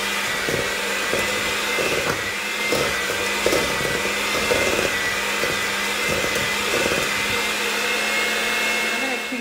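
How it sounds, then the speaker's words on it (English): An electric hand mixer beats butter with sweeteners for keto blondies, a steady loud whirring drone with periodic dips and bumps as the beaters knock the bowl, continuous and close. "Now I'm just going to use my electric mixer, and I'm going to incorporate the sweeteners into the butter and beat it until light and fluffy."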